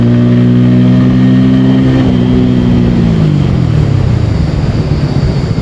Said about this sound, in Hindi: फोर्थ गियर पे ही 100 क्रॉस कर गई बॉस।